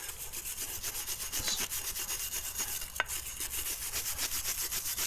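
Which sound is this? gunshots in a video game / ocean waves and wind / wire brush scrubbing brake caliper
wire brush scrubbing brake caliper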